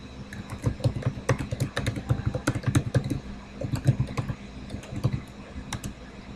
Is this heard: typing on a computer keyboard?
yes